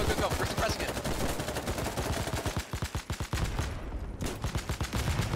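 Suppressing automatic gunfire in a multiplayer shooter game. A fast, regular stream of loud shots runs nearly the whole time, with a brief lull before firing resumes.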